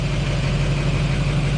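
A Duramax LMM diesel engine idles steadily and loudly with a slight exhaust leak, a constant low rumble held close with no breaks throughout.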